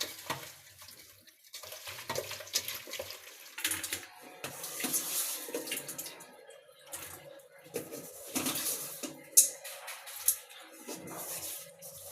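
Freshly cut koi fish being rinsed under running tap water in a home kitchen sink, a steady close splashing flow with occasional louder gushes and drips, no talking.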